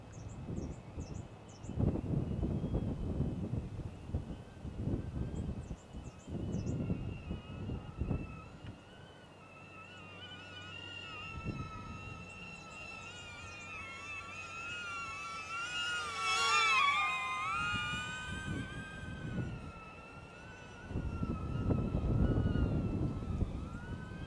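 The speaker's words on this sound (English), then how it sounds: "Wind, wind, wind, wind." Gusty strong wind buffets a small DJI Neo drone in manual FPV flight outdoors, with bursts of rumbling wind noise coming and going around a high whining motor tone that rises and swoops midway.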